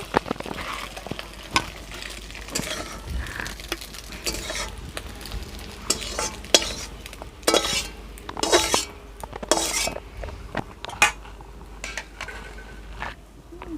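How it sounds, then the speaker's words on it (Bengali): Egg and banana flower mixture is stirred in a frying pan. A spoon scrapes and clinks irregularly against the metal over a steady close sizzle. "তাহলে বন্ধুরা একটু নেড়ে চেড়ে দিই দিয়ে ডিমটা নামিয়ে ফেলবো"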